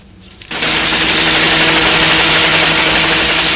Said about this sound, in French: Un hélicoptère fiston, c'est un peu comme une jolie femme.